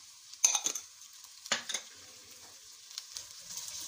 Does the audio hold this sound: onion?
yes